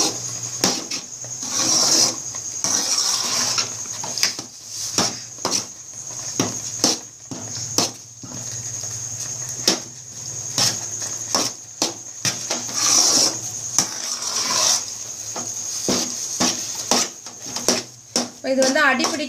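A spoon scrapes and rasps against a pan while rava upma is stirred over low heat, repeated short scraping strokes in an irregular rhythm beneath someone talking throughout.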